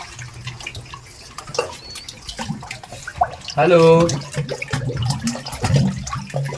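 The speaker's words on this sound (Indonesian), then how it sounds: "Bunyi ombak ini loh, kena rongga ini loh." Waves splash and slosh echoing in a hollow tunnel cavity beneath Candi Surowono temple, with drips and surges; a person speaks briefly over the watery noise.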